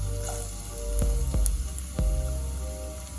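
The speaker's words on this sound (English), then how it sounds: "Saute the garlic first" Minced garlic sautéing in about four tablespoons of oil in a pot, a steady close sizzle and frying hiss with a few sharp clinks of a utensil against the pot.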